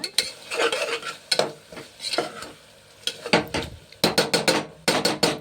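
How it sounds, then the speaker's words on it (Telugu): Biryani masala is stir-fried in a pan, with repeated scraping and clacking strokes of a metal spoon in uneven bursts over a light sizzle. The strokes come faster toward the end. "పచ్చివాసన పోయేదాకా వేపుకోవాలి మంచిగా"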